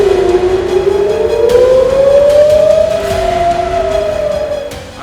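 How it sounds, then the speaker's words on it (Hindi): Loud air raid siren wailing in Israel during an Iranian missile attack, one steady rising and falling civil defense tone sustained for several seconds with no talk. "ईरान के इजराइल पर 200 से ज्यादा मिसाइलें दागे जाने के बाद सायरन बजने लगे।"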